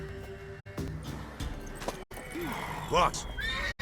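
A horse in The Witcher 3 whinnies loudly with a rising and falling neigh, close by, over a busy game soundscape with hoof clip-clops and a short spoken exclamation.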